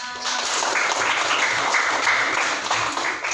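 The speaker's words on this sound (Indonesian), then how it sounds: "Ya, tepuk tangan untuk Mbak Sopana." Applause for a participant in a school classroom or academic coaching session, a steady broadband patter of clapping filling the room, moderately loud and sustained, with only faint traces of voices.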